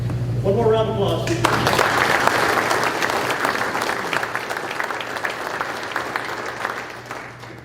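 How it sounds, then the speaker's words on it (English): An audience at an annual meeting applauds in a sustained, dense round of clapping that swells and slowly thins, with a brief voice and tone heard just before it begins. "One more round of applause."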